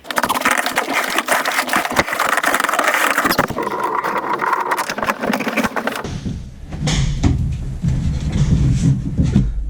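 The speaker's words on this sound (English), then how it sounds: "I'm gonna go put my mask on and climb up in there and start blowing insulation." An Owens Corning Attic Cat machine blowing loose-fill insulation runs with a loud, steady mechanical roar and rattle that shifts to a deeper, booming drone partway through, with no talking.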